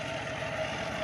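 A farm tractor engine runs in a steady low, throbbing rumble, close by and continuous through a brief moment.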